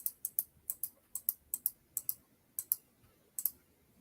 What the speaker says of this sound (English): I'm just clicking undo,